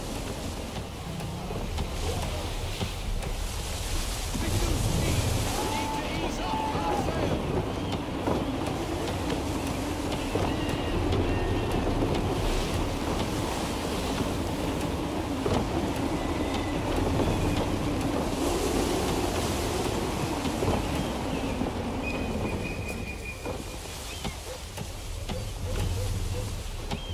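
Wind and waves while sailing a ship in Assassin's Creed 3, a loud continuous rush of water and gusting air with creaking and rumbling underneath, steady for most of the stretch, with a voice speaking over it.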